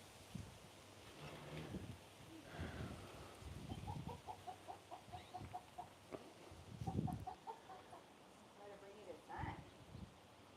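Chickens on a homestead cluck in short repeated bursts at moderate distance, with faint background noise and scattered human sounds in between.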